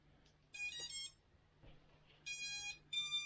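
A Beta95X v3 small drone gives three loud, high-pitched electronic beep tones in quick succession as it is armed, each tone a short burst with quiet gaps between them.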